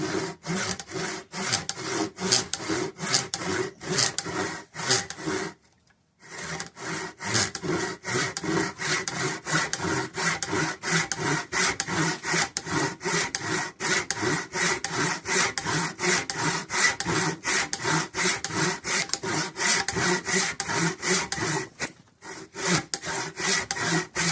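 A hand saw cuts through wood in fast, even back-and-forth strokes, loud and close, with two brief pauses partway through.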